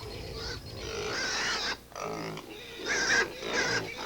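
Pigs grunting outdoors in a barnyard, a run of rough snorting grunts at moderate distance carrying through most of the clip with brief pauses, no talk over them.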